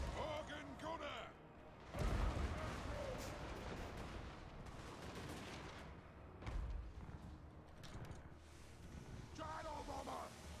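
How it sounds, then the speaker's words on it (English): A dwarf cannon fires in a fantasy battle video game, two deep booming blasts several seconds apart over a low battlefield rumble, with voices speaking between. "Alright, cannon, let's fire on that Doom Diver catapult there."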